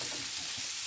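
A brief, steady hiss of shrimp frying in a pan, continuous and close, with faint low stirring rustles and no speech.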